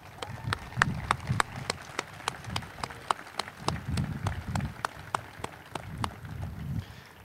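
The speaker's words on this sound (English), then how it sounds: "Please, a round of applause for our cadets." At an ROTC commissioning ceremony, an audience claps for cadets in a slow, sparse rhythm of sharp, evenly spaced claps, moderately loud, over a low murmur of room noise.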